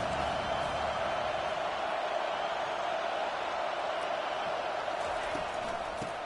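A football stadium crowd in an NCAA video game roars steadily and loudly on third down as the defense tries to get off the field, a dense, unbroken wall of noise.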